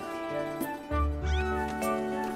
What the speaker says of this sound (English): Little meow meow kitty.